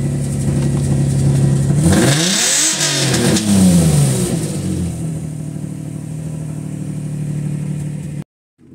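A 2005 Infiniti G35 in limp mode with O2 fault codes, running on a jump pack, revs its engine in two rising and falling sweeps, loud and close, then settles to a steady idle before cutting off.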